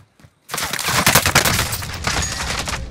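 Dense, continuous gunfire from a Call of Duty match, a sustained burst of overlapping shots after a brief quiet start, loud and close throughout.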